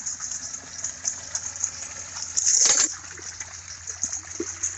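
Water drains out of a pipe outdoors on a hot day, a steady trickle and splatter over a low hum like an idling engine or pump, with a brief louder gush partway through.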